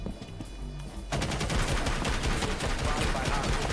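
Frost's SMG in Rainbow Six Siege fires in a sudden, sustained burst of rapid automatic shots after a brief quiet lead-in, loud and close, rattling continuously to the end.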